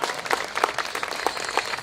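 A short burst of applause at an opening event, scattered claps blending into a brief, moderately loud patter.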